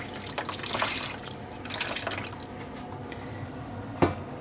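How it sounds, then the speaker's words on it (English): Water squeezed by hand out of a wet, freshly dyed yarn skein, with soft dribbling and dripping spread across a few seconds and one sharper splashy drip near the end, fairly quiet and close. "I'm just going to squeeze out the water"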